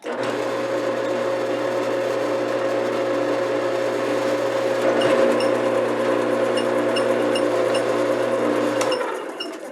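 A Grizzly G4000 lathe runs a threading die onto a stud, a steady, loud motor drone with a constant whine that holds for several seconds, then winds down near the end.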